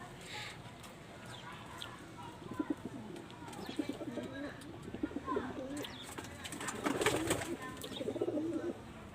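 Young pigeons coo softly and intermittently while being fitted with leg rings, with quiet handling noises and a low background murmur around them.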